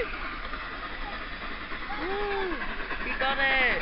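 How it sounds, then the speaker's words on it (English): The Flying Scotsman steam locomotive passes through Devonport, a broad rumbling hiss of steam and rolling wheels under chatter from nearby people, with whistle-like tones rising toward the end. "Okay, passing through now is the Flying Scotsman."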